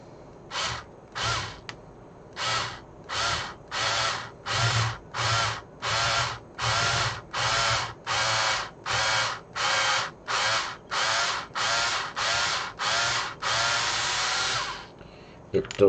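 A power drill bores into a plastic X-Wing model kit in a long series of short, regular bursts, about sixteen whirring pulses with brief pauses between, close and clear.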